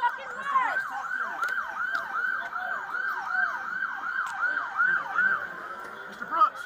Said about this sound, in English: Tell the ambulance come right there.